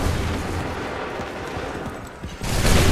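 Musket volleys crack out in an Assassin's Creed 3 battle, a dense roll of overlapping shots and booms rumbling across the field, ending in a louder burst of fire as the clip closes.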